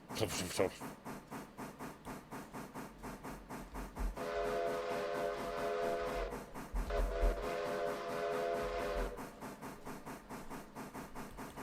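A train locomotive in the Railroader video game rumbles along with a steady rhythmic clatter and sustained metallic creaking and groaning tones, loud and continuous throughout.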